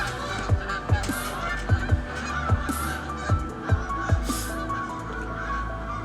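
A flock of geese honking as they migrate at summer's end, several loud, close honks repeating in an uneven rhythm over a faint outdoor background.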